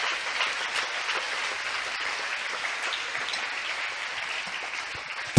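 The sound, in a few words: congregation applause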